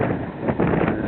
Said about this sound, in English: It's blowing a bit here in North Wales this morning.